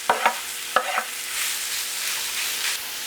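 Beef cecina sizzles on a hot griddle with a bright, continuous hiss, opened by a few quick knocks and scrapes as the meat is laid down; no voices.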